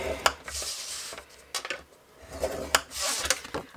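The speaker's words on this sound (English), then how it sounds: "So I'm going to score this at 2 inches, 5 centimetres on all 4 sides" A stylus scoring lines into cardstock for a lidded cube box, a few short, close scraping strokes separated by quiet pauses.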